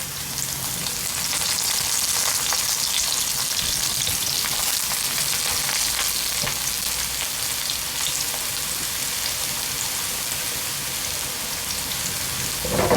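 Eggplant fries in about three tablespoons of hot oil in a pan, giving a steady, loud, crackling sizzle that carries on evenly throughout with no talking.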